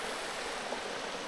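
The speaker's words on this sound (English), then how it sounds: "we've got the creek running here." Water of a small creek with a little waterfall runs steadily through a rainforest campground in New South Wales at night, a close, continuous broadband rush with no voices over it.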